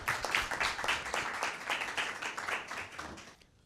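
Audience applause for a guest at a Christmas Bible quiz event, continuous dense clapping from a crowd, fairly faint and distant, fading out at the end.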